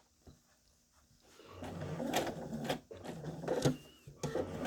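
A sewing machine runs slowly and steadily, top stitching around curves in contrast thread on a small baby lovey, its mechanical whir starting after a quiet second and continuing in short bursts with brief pauses.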